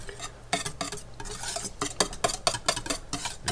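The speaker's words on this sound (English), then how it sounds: "So I'm just whisking this all up nice and smooth" A whisk scraping and tapping rapidly against a bowl while mixing a sour cream, honey, thyme and minced garlic salad dressing into a smooth paste, in steady close-up strokes with no talking.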